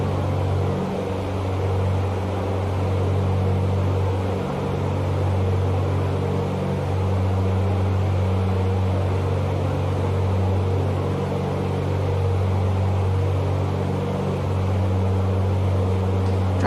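A simulated aircraft engine drones in the X-Plane flight simulator game on an East Coast flight to Norfolk, Virginia, a steady loud low hum with slight wavering that holds unbroken throughout.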